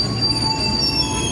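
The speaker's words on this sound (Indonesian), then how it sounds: "kereta tengah berjalan melanjutkan perjalanan." Train wheels squeal with a high steady whine over low rumbling as a commuter train rolls through Depok Baru station south of Jakarta, Indonesia.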